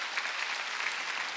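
A church congregation claps during a Sunday worship service, a brief dense burst of applause that stays even and fairly loud throughout.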